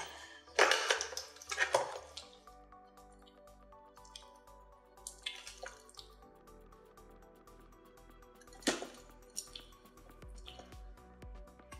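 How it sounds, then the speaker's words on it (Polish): Water is poured into the tank of a DeLonghi Cappuccino espresso machine during a repair. Splashy, gurgling bursts come up close, with a strong surge at the start and another later, separated by quieter trickling and drips. "i nalewamy wody"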